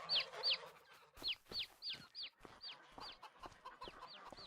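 Chickens clucking in Farming Simulator 25, a run of about a dozen short, bright clucks and squawks at a brisk, uneven pace, close and clear with no talking.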